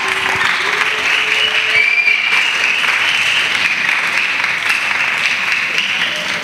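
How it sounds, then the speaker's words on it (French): Children applauding loudly in a church gathering, a dense steady clapping that continues for several seconds at full volume. "Acclamez très fort."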